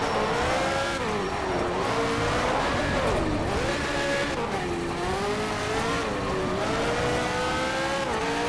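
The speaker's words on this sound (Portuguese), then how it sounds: "parece que ele não faz a curva, parece que ele derrapa a curva" Race car in Need for Speed: Shift 2 Unleashed sliding through a curve, its engine howling and rising and falling in pitch as the tires squeal and skid, loud and close throughout, with no talk.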